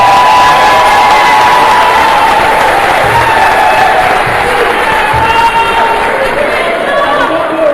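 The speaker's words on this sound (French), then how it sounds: "je voudrais vous prier d'applaudir une fois de plus pour nos U17 qui sont sacrés champions du tournoi UNIFAC" A large crowd at an awards ceremony claps and cheers loudly for the U17 tournament champions, a dense, continuous wash of applause mixed with chatter throughout.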